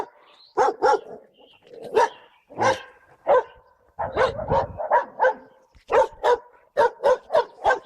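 Several dogs bark in a village on the way to a shop, sharp repeated barks in quick bursts with brief pauses, close and loud, some yips mixed in.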